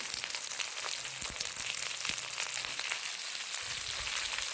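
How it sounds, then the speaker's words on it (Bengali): Chopped onion frying with ginger and garlic in a pan for chana ghugni, a loud continuous sizzle and crackle that holds steady throughout, with faint stirring knocks underneath. "এবার আদাটা আর রসুনটা হালকা ভাজা ভাজা হলে এর মধ্যে চলে যাচ্ছে আমাদের পেঁয়াজ কুচি"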